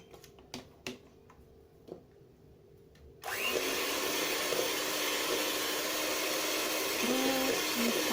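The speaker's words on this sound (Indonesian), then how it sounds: "kita mixer lagi dengan kecepatan tinggi" An electric mixer switches on at high speed to beat nastar cookie dough after liquid vanilla is added, a loud steady whir that runs continuously after a few quiet clicks and taps.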